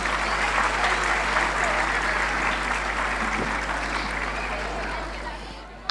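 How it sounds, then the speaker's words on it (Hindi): Audience at a school annual function claps for the children in a long, steady round of applause over a constant low electrical hum, tapering slightly before it ends. "जोरदार तालियां इन बच्चों के लिए।"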